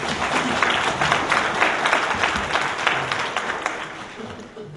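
A crowd of party supporters at a political meeting applauds loudly, dense clapping rolling through the room and gradually easing toward the end, with faint voices mixed into the din.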